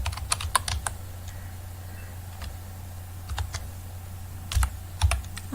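Someone types C code on a computer keyboard, short bursts of close, crisp key clicks separated by quiet pauses, with a steady low hum running underneath and no voice.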